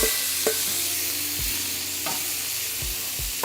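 Shrimp sizzling steadily in butter with sausage and vegetables for Cajun fried rice, a constant loud hiss broken by a few spatula scrapes and low knocks against the pan.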